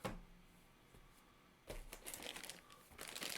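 Plastic bags holding board game components crinkle and rustle in bursts, quiet at first and then louder and denser toward the end, with no talk over them.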